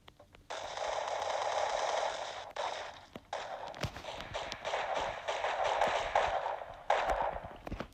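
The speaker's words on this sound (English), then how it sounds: "And a gunfight." Gunfire in the Roblox shooter game Arsenal crackles in long sustained bursts of rapid automatic shots, loud and continuous with brief gaps between volleys.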